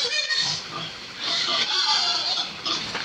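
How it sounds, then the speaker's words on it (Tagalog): Pigs packed on a truck squeal and grunt in shrill, overlapping bursts, loud and near, with short pauses between outbursts. "Yan, mga baboy."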